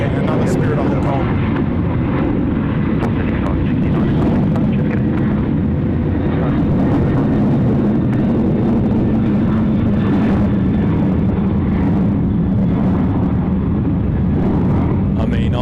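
An airliner passes at Sydney Airport, a loud, steady broadband engine roar that fills the whole stretch, with people talking over it.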